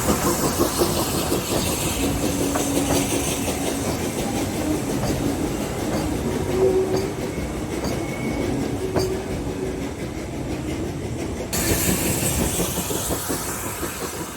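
Steam locomotive NCB No. 54 hauling a passenger train south on a long straight climb out of East Tanfield, a loud continuous rumble with clattering wheels and faint squeals passing close by.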